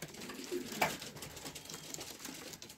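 Racing pigeons at a loft give soft cooing calls, a short coo standing out briefly amid low ambient background noise, fairly quiet and close.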